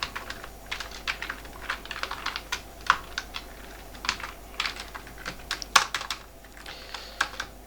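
Steady, fast typing on a computer keyboard while PHP code is written, with quick uneven bursts of keystrokes and short pauses, close and clear over a faint hum.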